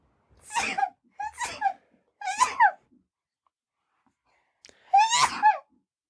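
Four sharp, high-pitched little sneezes: three in quick succession, then a pause and one more, close and clear against silence.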